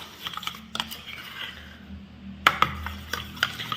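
Henna paste being mixed with water, close soft scraping and clicking of a spoon in a bowl, irregular strokes with a few sharper taps.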